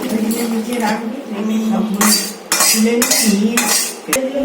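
A cooking pot of jackfruit curry is handled and taken off the stove, with loud, close metallic clinks and clatters of pot and utensils sounding in a quick, irregular series.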